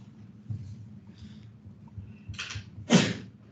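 A single sneeze bursts out in a classroom during a math lesson, moderately close and sharp, followed by a short breathy release, over a low room hum.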